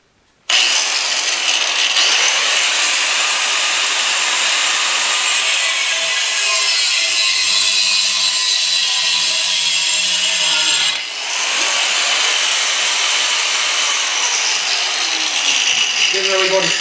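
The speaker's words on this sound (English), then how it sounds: "I don't really have anything to brace the metal up to hold it the best, so I'm just going to use the grinder." An angle grinder cutting metal for a Snapper LT12 racing tractor build, a loud steady high-pitched grind running almost continuously with a brief dip midway.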